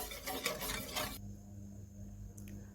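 Quick scraping and swishing of a spoon stirring a milk and cocoa pudding mixture in a pot over low heat for about a second, then it stops, leaving a faint background hum.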